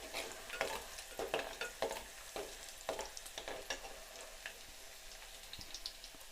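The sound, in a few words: frying pirandai (adamant creeper) with chana dal in a pan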